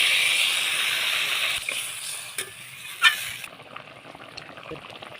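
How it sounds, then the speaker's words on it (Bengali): Potato curry with spice paste simmering in a pot after water has been added, giving a steady soft hiss and bubbling with a few brief stirring scrapes and clinks, fairly faint and close. "এবার আমি পরিমাণ মতন জল দিয়ে দিচ্ছি"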